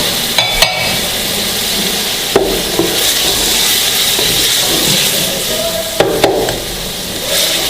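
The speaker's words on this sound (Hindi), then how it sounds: "इनको हम अच्छी तरह भूनेंगे।" Ginger garlic paste, green chilies and tomatoes frying together in a pan, a steady hiss and crackle with several sharp clanks of the spoon as the mixture is stirred, close and fairly loud.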